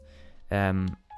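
A single short electronic beep from a speedcubing timer sounds, close and clear, between quiet stretches of background noise.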